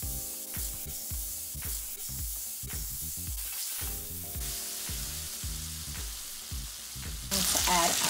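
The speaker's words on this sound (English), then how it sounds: "so we're gonna add some butter to this nice hot pan." Butter sizzling in a hot pan before French toast is fried, a dense continuous hiss with rapid crackling pops throughout, close and steady, growing a little louder and brighter near the end.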